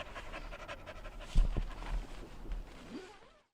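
Dogs pant softly and rhythmically close by, quick breathy huffs with a brief rustle midway, no voices.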